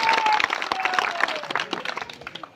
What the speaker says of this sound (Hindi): जोरदार हरदीप भाई के लिए ताली बजाते।